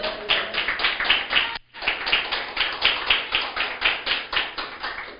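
A church congregation claps in a steady rhythmic beat, each clap sharp and evenly spaced, with one brief pause before the clapping resumes at the same tempo; no talking over it.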